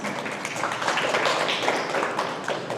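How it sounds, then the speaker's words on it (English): A school audience applauds newly inducted National Junior Honor Society officers at a Lincoln PK-8 School induction ceremony, with steady, dense clapping that fills the room evenly throughout. "Please give all of our officers a round of applause"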